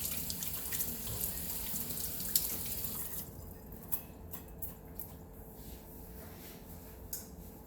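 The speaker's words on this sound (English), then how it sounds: "So definitely wash hands." Water runs from a kitchen tap during handwashing before baking butter cookies, a steady low wash with a few light splashes and clicks, fairly faint and close, with no talking.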